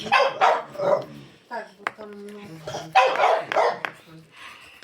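A dog barks and yips indoors in two bursts, close and fairly loud, mixed in with people talking.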